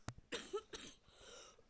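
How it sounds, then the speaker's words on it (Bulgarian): A few close, harsh coughs in quick succession, loud and raspy, followed by a short breathy rasp. "Кашлям."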